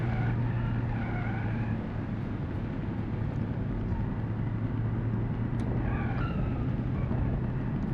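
A car in BeamNG.Drive at the Nürburgring, driving on a deflated tyre, makes a steady droning engine and road noise at constant volume, with faint tonal changes as it runs.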